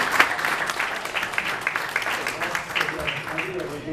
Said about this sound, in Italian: Un applauso a lui.